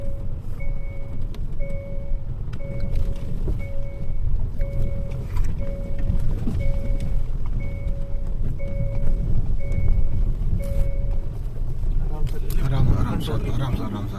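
A vehicle pushes through dense forest with a steady low engine and road rumble, while a regular electronic beep repeats evenly throughout and faint voices sit in the background.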